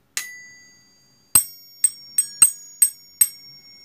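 A ding-dong doorbell chime rings out in bright, clear bell-like strikes. One isolated ring is followed after a pause by six quick rings, each decaying fast, with silence between them.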